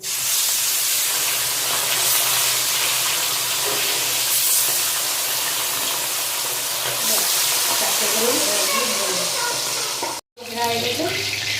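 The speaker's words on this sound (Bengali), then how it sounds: "তেল গরম হয়েছে একটা একটা করে মাছগুলো ভেজে নেবো" Bata fish rubbed with salt and turmeric sizzle in hot oil, making a steady, loud, close hiss that runs throughout, with a short break near the end.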